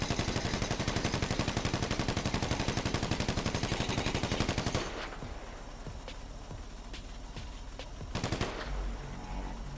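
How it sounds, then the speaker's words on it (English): Sustained automatic gunfire hitting a bulletproof vehicle in GTA Online, a dense rapid stream of shots that eases slightly midway and then continues, loud and steady with no talk. "she is shooting the ever-living hell out of me right now"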